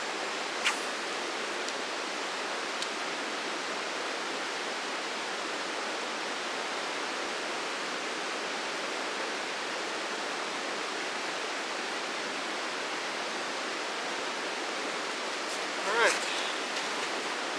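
A river flowing steadily nearby at a wild steelhead fishing spot, a constant broad rushing wash at low level with a faint brief knock near the end.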